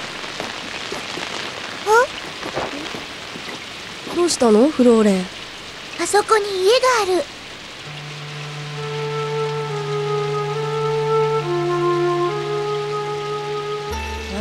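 Rain falling in a forest makes a soft, steady hiss that runs beneath brief exchanges between voices and continues under music that rises later on.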